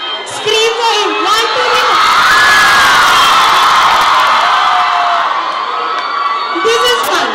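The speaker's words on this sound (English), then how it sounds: "Only the girls scream for him." Crowd of girls at a college fest in 2014, shrieking and cheering loudly and without a break, a dense wall of high-pitched screams and whoops that swells and holds.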